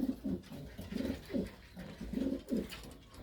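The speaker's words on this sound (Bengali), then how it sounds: "মাদি কবুতর।" A female pigeon in a racing loft coos in repeated soft, low throbbing phrases, close and clear, with no talk over it.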